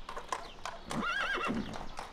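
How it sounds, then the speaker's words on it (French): Horse neighing in a loud, wavering whinny, framed by close, rhythmic hoof clip-clops before and after it. "C'est l'heure où le seigneur Fulbert apparaît sur son cheval harnaché d'or"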